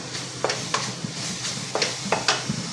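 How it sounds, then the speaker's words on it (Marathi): Ground coriander, cumin and fennel paste sautéed in a pan for a fenugreek and potato dish, with steady soft sizzling and several sharp scrapes of a spoon stirring against the pan. "वाटण धणे जिरे बडीशेप एक मोठा चमचा आणि थोडंसं अर्धा चमचा दीड चमचा घातले परतून घ्यायचे छान"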